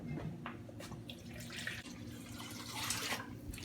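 Water pours steadily into a cooking pot already holding vegetable broth for one-pot pasta with peas and zucchini, a soft, continuous splashing at low volume with light clatter.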